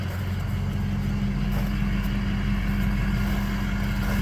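A Ford 6.0 Powerstroke diesel truck engine idles close by with a steady low, throbbing rumble, continuous and unbroken throughout.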